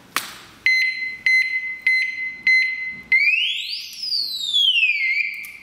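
An ABUS motorcycle disc lock alarm, set off by a strong knock, gives a few short beeps, then rises into a loud, warbling siren that sweeps up and down in pitch.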